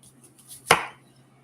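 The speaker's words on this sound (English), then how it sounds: "So I'm dicing the garlic." A kitchen knife strikes a chopping board once while dicing garlic, a crisp single thud that fades quickly in an otherwise quiet room.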